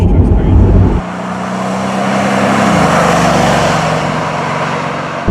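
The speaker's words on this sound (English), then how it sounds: "Quite a bit of wind noise" Steady broadband wind and road roar inside a moving Mercedes G550 4x4 Squared with the windows closed, a continuous loud rush under a low engine drone that shifts pitch partway through.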